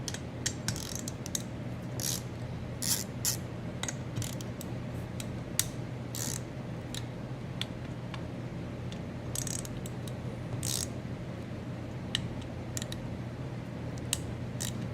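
Close-up ratchet clicks come in quick bursts while an 8mm ratchet breaks loose and spins out the valve cover screws on a Briggs & Stratton 950 Series engine. The sharp ticking is fairly faint against a low steady hum.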